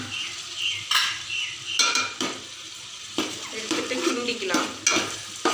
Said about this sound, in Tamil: தக்காளி பழம் உள்ள சேர்த்துறேன்.